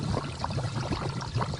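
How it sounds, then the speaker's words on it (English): Natural gas bubbling up through water from a leaking underground pipe near a vent pipe, a steady close gurgling and trickling that continues without pause and with no voices. "listen carefully to see if you can hear the bubbling beneath."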